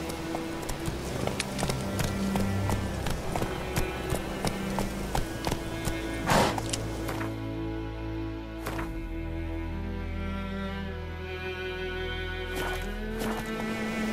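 A horse's hooves clip-clopping at a steady trot-like rhythm in The Witcher 3 game world, with background music, the pace easing and slowing toward the end.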